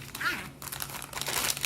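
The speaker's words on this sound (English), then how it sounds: "we're going to grab our plastic bag" A plastic bag crinkles and rustles up close in short bursts as it is handled during a strawberry DNA extraction, with some faint voice in the background.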